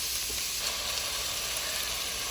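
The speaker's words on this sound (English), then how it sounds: "We're really only gonna cook them to just like get them nice and brown and crispy on each side" Beef stew pieces sear in a hot pan with a dense, even sizzle and crackle heard close up, steady and loud throughout, with no talk.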